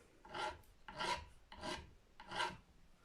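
Four steady rasping strokes of a file across the nut of a Gibson SG Special guitar, close and clear, each stroke about half a second long with short pauses between.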